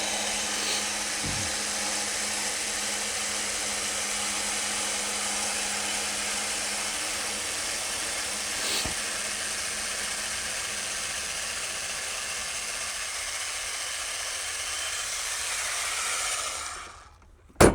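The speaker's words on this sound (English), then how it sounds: "with that tight, we can lower our jack" An AGM Electric Jack PRO lowers a Can-Am Commander side-by-side out on the trail: a steady, close electric motor whine runs without a break for about sixteen seconds, then winds down and ends in a sharp click. No one speaks.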